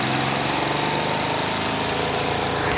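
A small washing machine inside an RV, set to 3, starts and spins with a steady, loud mechanical hum and a constant droning vibration throughout.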